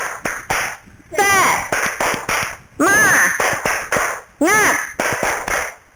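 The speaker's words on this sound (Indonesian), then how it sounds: "Sebelum pulang kita tepuk semangat dulu ya." A class of children at the end of a school lesson does a rhythmic clapping cheer led by the teacher. Sharp bursts of claps in set patterns alternate with shouted chanted syllables, loud and close, over several seconds.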